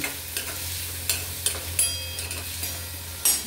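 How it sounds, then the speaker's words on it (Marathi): Onions sauté in a pan for methi bhaji, giving a steady low sizzle broken by regular scrapes and taps of a spatula, close up and without voices. "कांदा छान ब्राऊन होईपर्यंत आपण परतून घेणार आहोत।"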